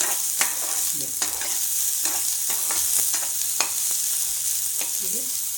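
Chopped onions frying with garlic in a pan, a loud steady sizzle broken by repeated scraping strokes of a spatula stirring them, with no talk.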